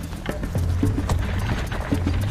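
Two horses pulling a chariot with a driver and warrior at a gallop, rhythmic clopping hoofbeats close by, steady and moderately loud with rumbling wheel noise beneath.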